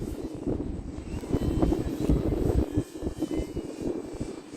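An RC Arrows Husky Ultimate model airplane's engine winds up as the throttle is pushed forward, a loud droning buzz that swells and wavers steadily, heard alone without talk.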